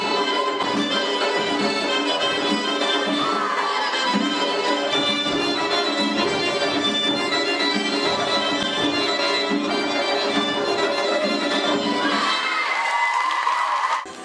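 Concert crowd in a hall after a choreographic ensemble's performance, loud sustained cheering and whooping with shouting voices layered over steady clapping, dense and unbroken throughout, with music-like tones threaded underneath.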